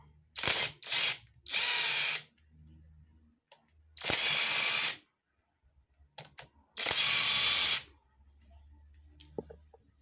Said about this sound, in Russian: Відкручуємо рокера.